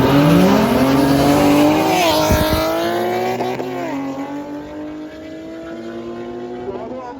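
A drag race at Bushy Park between a 3.7-liter V6 car and a 3-liter inline-six car, with engines revving hard and climbing through the gears, loud and close, with a tire squeal and faint voices in the background.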